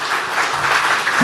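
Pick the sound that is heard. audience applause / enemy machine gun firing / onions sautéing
audience applause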